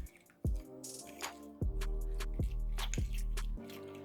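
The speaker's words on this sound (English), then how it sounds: "our chocolate ganache is ready to stir up" Thick chocolate ganache is stirred in a bowl with wet, squelching thuds at irregular intervals, each followed by a soft sticky drag, close and moderately loud.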